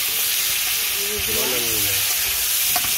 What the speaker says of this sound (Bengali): দিয়ে দিলাম একটু নাড়াচাড়া দিয়ে নেবে, নাড়াচাড়া দিয়ে যাও